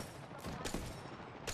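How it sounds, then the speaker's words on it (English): Gunfire in the Apex Legends battle royale shooter, a few broadband bursts of shots over steady game noise, moderately loud and close, with no talk. "They're shooting at you."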